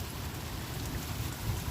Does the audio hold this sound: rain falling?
yes